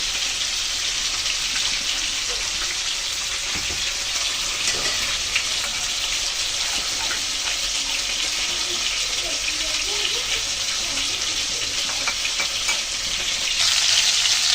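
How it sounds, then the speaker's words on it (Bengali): Tilapia fish pieces frying in hot oil until reddish, a steady broad sizzle running throughout the clip, with occasional faint stirring or handling noises underneath. "মাছগুলোকে লালচে করে ভেজে নিলাম"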